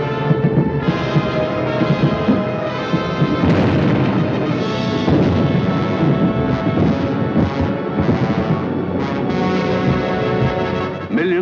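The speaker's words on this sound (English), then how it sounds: "Millions of firebombs rained down on the great city of London." Firebombs burst over London during a WWII bombing raid, a loud, dense, continuous roar of overlapping blasts and rumbling booms with no voices.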